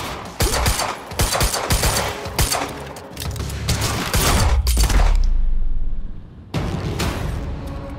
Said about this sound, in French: Alors arrêtez de nous tirer dessus